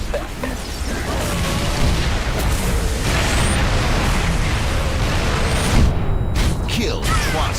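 Artillery strikes pound a battlefield in a video game, a dense, continuous roar of deep booms and rumbling blasts that stays loud throughout with no pauses.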